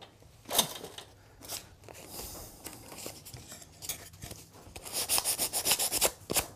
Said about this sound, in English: Clean that up with a bit of sandpaper.